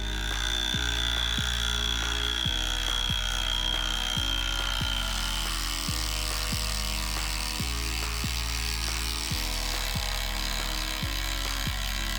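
A loud, steady chainsaw whine runs continuously, with low rhythmic bursts roughly every second as it bites repeatedly through a large tree.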